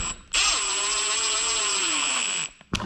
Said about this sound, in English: I just screw these in, it'll flip that tab and tighten down.